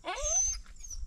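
A dog in a village gives a single short, high whining yelp, fairly close, over a low background murmur.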